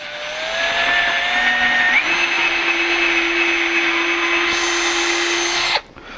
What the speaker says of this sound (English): First step, you will use a drill bit